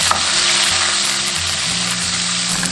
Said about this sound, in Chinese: 锅中倒食用油， 下入葱姜蒜、小米椒炒香。